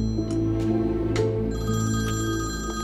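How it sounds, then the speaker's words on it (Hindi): A telephone rings indoors with a bright, electronic trilling tone, repeating in short pulses throughout, loud and close, with no talking over it. "मिस्टर कमाल, आपके लिए फोन है।"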